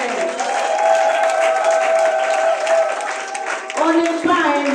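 An audience of mothers applauds and cheers in a hall, steady loud clapping that swells for several seconds, with sustained music-like tones and a voice over the crowd near the end.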